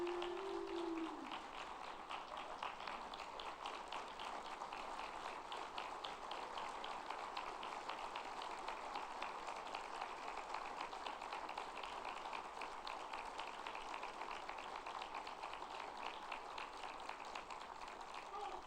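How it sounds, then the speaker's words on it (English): Sustained audience applause at a military test wing commander's call, a steady dense wash of clapping that runs for nearly twenty seconds at an even level, with no pauses or voices standing out. "So please, one more round of applause for Chief Stoltzfus."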